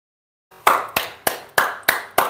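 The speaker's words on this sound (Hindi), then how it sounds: "आप ये जो मुसलसल तालियां हैं ये आप यकीनन जो है वो एशविन के सौ के लिए जडेजा के पचासी के लिए" Rhythmic bursts of applause from a cricket test crowd in Chennai, six regular swells of clapping that each fade before the next, loud and steady with no talk over it.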